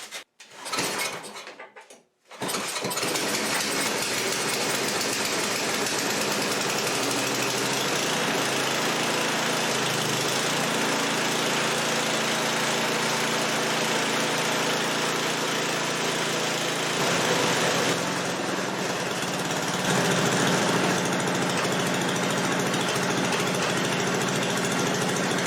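An 8 HP Tecumseh snowblower engine, just given a carburetor repair for surging, catches after a brief start attempt and then runs steadily and loudly up close for a long stretch, its drone holding fairly even.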